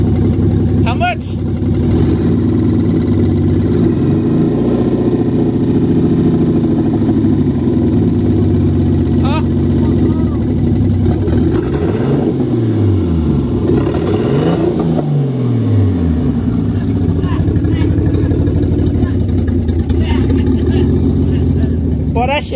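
A built 500-horsepower Nissan RB25DET engine revs hard, loud and close, its pitch sweeping up and falling back repeatedly over a rough idle as people shout and talk throughout.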